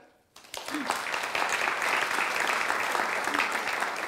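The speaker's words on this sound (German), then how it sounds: "Sie kriegen den Applaus vor der Vorstellung." Audience applause at an indoor cultural event in a hall, a sustained round of clapping that begins after a brief quiet moment and holds steady, moderately loud and continuous.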